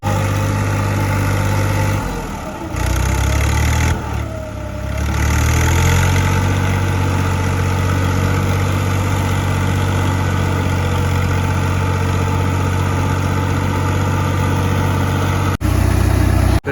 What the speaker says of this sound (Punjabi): ਆ ਦੇਖੋ ਆ ਮਾਸ਼ਾਅੱਲਾ ਮੋਟਰ ਚੱਲ ਰਹੀ ਹੈ